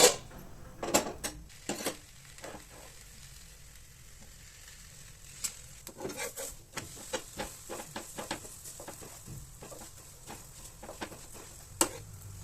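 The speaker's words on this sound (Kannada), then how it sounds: "ಕಾದಿರೋ ಹಂಚಿನ ಮೇಲೆ ಹಾಕ್ಕೊಂಡು ನಾವು ಸ್ವಲ್ಪ ಆಯಿಲ್ ಹಾಕ್ಕೊಂಡು ಫ್ರೈ ಮಾಡಿಕೊಂಡ್ರೆ" Wheat paratha frying in a little oil on a hot tawa, a soft steady sizzle broken by scattered clicks and scraping taps of a spatula, fairly quiet and close, with no talking.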